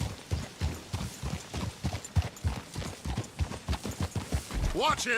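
Horse hooves clip-clop in a steady trotting rhythm in the Western video game Red Dead Redemption 2, close and clear, with someone shouting briefly and other voices talking over the hoofbeats.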